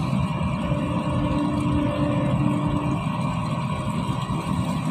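A machine engine runs steadily, giving a constant low rumbling drone with faint tonal hum that holds throughout, with no voices.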